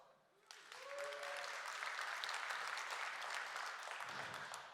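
Conference audience at a DevOps event breaking into applause, a brief sound then a sudden swell of many hands clapping steadily and fairly loud, fading slightly near the end.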